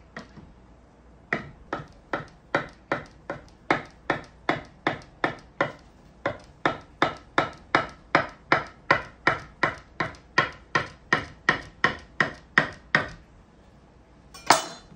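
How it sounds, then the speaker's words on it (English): A sharp knife slices through rolled, folded fresh tagliatelle dough on a board, giving about thirty crisp, evenly spaced chopping taps in a steady close rhythm with no talk. "And then sharp knife, just cut your slices"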